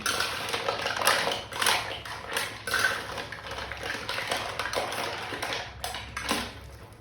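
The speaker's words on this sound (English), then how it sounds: "Put all the onions, the garlic. And we're going to mix them around." Onions and garlic are stirred in a pan with mussels, producing close, irregular metallic scraping and clattering strokes in uneven bursts.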